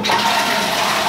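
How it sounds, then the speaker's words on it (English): A toilet flushing in a newly refurbished cloakroom, a steady loud rush of water running close by throughout, with no talking. "flush is working"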